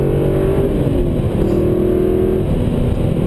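A car accelerates out of a corner on a race track, its engine a loud, steady drone with harmonic tones that rise slightly as it pulls away, with no talk over it.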